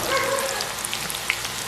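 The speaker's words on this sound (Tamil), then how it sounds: "நல்லா கொதிக்கிற எண்ணெய்க்குள்ள ஒட்டி எடுத்து போடுவோம்." Plantain slices fry in hot oil, sizzling and crackling steadily up close, with scattered small pops.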